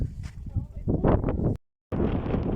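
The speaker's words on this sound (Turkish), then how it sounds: "ne esiyor ama ya. Yok böyle bir rüzgar ya." Wind buffets the microphone in rough low rumbling gusts, briefly cutting out before blowing again; a voice is faintly mixed in.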